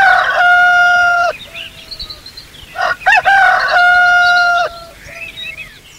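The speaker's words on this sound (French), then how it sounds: "Bonjour, je suis le coq." Rooster crowing loudly and close on a farm, two long cock-a-doodle-doo calls separated by a pause filled with softer clucks and squawks.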